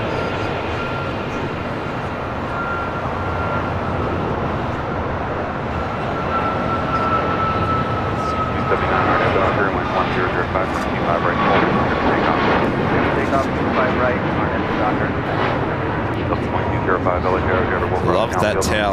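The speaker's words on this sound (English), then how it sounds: "that is Delta Airlines flight 1447 coming in from Minneapolis" A Delta Airlines jet landing at LAX makes a rising engine whine and rumble that swells louder through the second half; people talk over the sustained aircraft noise.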